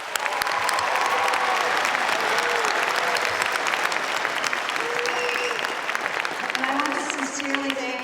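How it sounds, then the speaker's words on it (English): An audience applauding at a 2017 North Hennepin Community College graduation ceremony, dense steady clapping from a large crowd that continues for several seconds with a few faint voices mixed in. "Can we give them another round of applause?"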